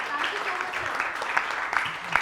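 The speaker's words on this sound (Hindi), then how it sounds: "तो जजेस के लिए भी जोरदार ताली हो जाए।" Clapping from the audience at a college talent show event, directed at the judges, a moderately loud patter of hands with a few sharper claps, blended with crowd murmur.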